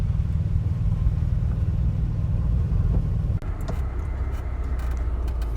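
A van rolls out slowly over compacted ice and snow, its engine rumbling low and steady up close before easing off, with faint crunching and ticks near the end.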